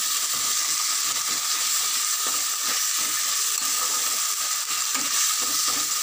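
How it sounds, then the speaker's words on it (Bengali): Green chili, cumin and ginger paste frying with mutton in a pan, a steady close sizzle with light scraping from stirring throughout, no voices. "এবার ভালো করে মশলাটাকে নাড়াচাড়া করে ভেজে নেব।"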